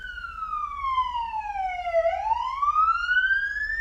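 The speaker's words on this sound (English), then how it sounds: "As an ambulance drives past, it's very noisy here." An ambulance siren wails steadily, its pitch sliding down then rising again as the vehicle passes, loud and clear over a low traffic rumble.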